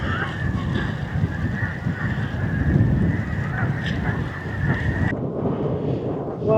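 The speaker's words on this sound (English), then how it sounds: "The birds are everywhere here." Thousands of birds honking and calling at once outdoors in Canada, a dense, loud, continuous wash of overlapping cries that drops away abruptly near the end.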